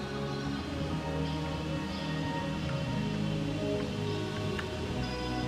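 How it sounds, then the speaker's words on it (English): Heavy rain pours steadily outside a house, a dense, even hiss that continues without pause, with a low droning engine hum beneath it. "it's starting to really rain at my house. It is pouring"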